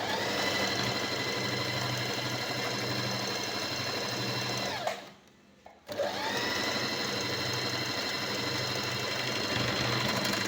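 An Usha Janome Dream Stitch sewing machine stitches fabric with a fast, steady whirring hum, stopping for about a second midway before running again, close and alone.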